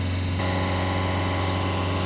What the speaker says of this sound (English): using our pedal depressor there to hold the revs just under 3000 RPM